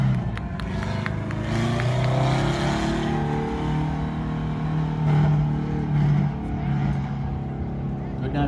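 4-cylinder stock cars racing at Wiscasset Speedway, a continuous roar of engines at a distance with passing revs, under a voice talking throughout.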